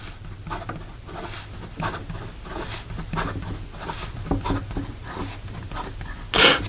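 A Montblanc James Dean fountain pen scratches quickly across paper in a steady patter of close, light strokes, ending with a brief louder rustle.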